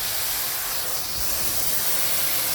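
Steady hiss of a water spray rinsing a K&N whole house air filter, loud and continuous from start to finish with no pause and no voices.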